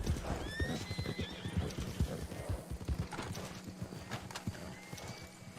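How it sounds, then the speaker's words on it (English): Horses in the Red Dead Online video game whinny several times with high rising calls while hooves clip-clop steadily and fairly close throughout. "I wish they wouldn't have the horses stand guard."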